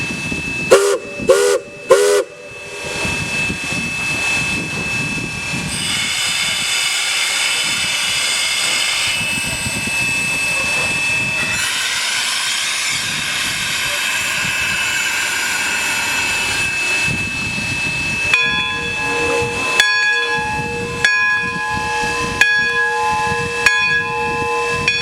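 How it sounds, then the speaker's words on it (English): McCloud #18 steam locomotive pulling out of a station, a few sharp whistle blasts at the start, then a sustained loud whistle and steady rumbling chug, near and loud throughout. "As the train leaves the station"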